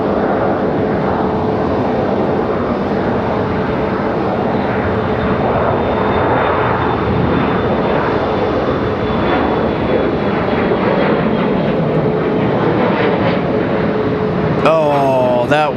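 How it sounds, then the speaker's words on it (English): A United Express Embraer E-175 jet roars on its takeoff run at Raleigh-Durham airport, a loud sustained engine rumble and whine filling the whole stretch, with a faint voice near the end. "That's going to be a 2-hour flight for that E-175 coming at us right now"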